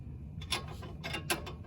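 Ratchet tightening lower control arm bolts on a 2005 Mercedes C230 Kompressor, faint and close: a few short bursts of clicking with brief pauses between them over low background noise.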